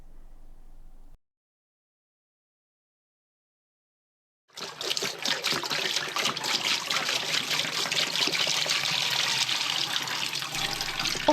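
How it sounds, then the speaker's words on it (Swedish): Water poured out of a tumble dryer's water container, a steady close trickle and splash that starts after a silent gap and keeps on at an even level until the end. "När kläderna är torra behöver jag hälla ut vattnet"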